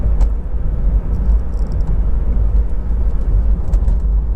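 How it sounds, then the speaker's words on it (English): A Honda CR-Z 1.5 IMA GT hybrid engine idles with a steady, loud low rumble throughout, smooth and even with no revving, and no voice over it. "you've got an engine start button which was into life immediately and settles to completely smooth, even idle"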